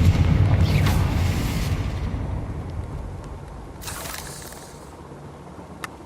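A Confringo blasting spell in Hogwarts Legacy gives a loud rumbling boom that decays over a couple of seconds, then a second burst of hissing energy, with a short sharp crackle at the end.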